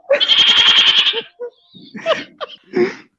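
A goat gives a loud, quavering bleat lasting over a second, followed by a few short, scattered vocal sounds.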